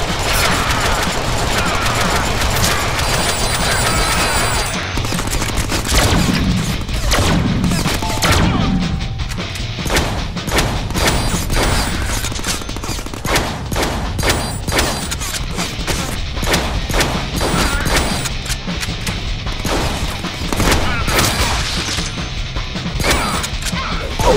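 Rapid video-game gunfire from a Deadpool game, dense bursts of shots and crashes packed close together, loud and nearly continuous throughout.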